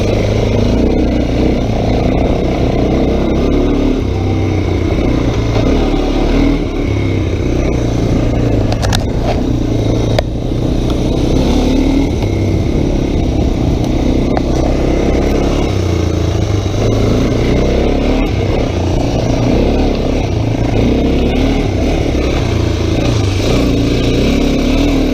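1985 Honda 250SX ATC three-wheeler ridden on ice at night in winter, a loud continuous engine drone with small rises and dips in pitch, close to the microphone, running without pause throughout.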